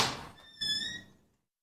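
The front door of a building opens in a horror story sound effect: a dull thunk, then a thin ringing squeak of the hinge that fades out within a second.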